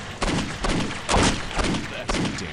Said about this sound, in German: Hör mal auf zu schießen von da unten.